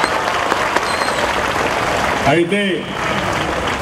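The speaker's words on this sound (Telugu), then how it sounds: "గట్టిగా చప్పట్లు కొట్టి మీ హర్షాన్ని ఆమోదాన్ని తెలియజేయాలి" Students at a model high school clap loudly in a dense, continuous burst at an outdoor school event, while a voice briefly speaks over the applause near the middle.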